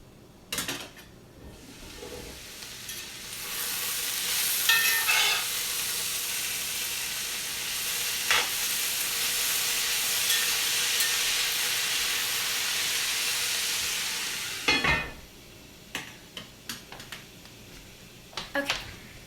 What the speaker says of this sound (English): I'm going to stir this again real quick